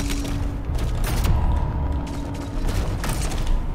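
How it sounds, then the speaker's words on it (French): In the video game DOOM The Dark Ages, a pump shotgun is drawn amid loud mechanical clanks and metallic creaks, with sharp impacts and a steady rumbling game backdrop throughout, no talking. "Je sors mon petit fusil à pompe à l'ancienne."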